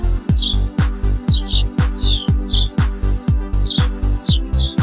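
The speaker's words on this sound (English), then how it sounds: "Chirping sparrow." Chipping sparrow song heard up close and alone: a steady series of quick, sharp chips repeating at an even pace for about five seconds, with clear bright notes and no voices.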